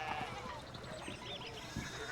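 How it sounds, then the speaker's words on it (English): Sheep bleating in a video game, a soft, continuous bleating blended into a dense ambient game backdrop with no clear breaks. "I love the sheep sounds."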